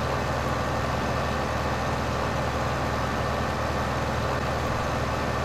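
A tractor engine runs steadily in Farming Simulator 15, a continuous low idling drone with no talk over it.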